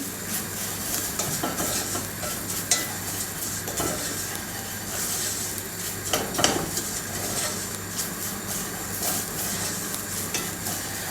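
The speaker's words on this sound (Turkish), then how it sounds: "Ve tarhanamı şöyle bir güzel kavuruyorum." Tarhana sautéing in a pan while it is stirred, with a continuous close sizzle broken by scraping and light clinks of a utensil against the pan at irregular moments.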